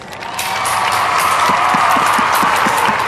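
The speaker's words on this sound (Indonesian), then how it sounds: "Tepuk tangan semuanya." Applause from a podcast audience at the close of a talk on the coffee business, continuous clapping with some cheering, steady and fairly loud throughout, with faint crowd noise underneath.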